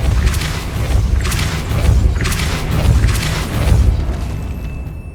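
Depulso spell cast in the video game Hogwarts Legacy, a series of loud booming blasts repeating about once a second, each with a bright crackling burst over a deep rumble, close and alone with no talk.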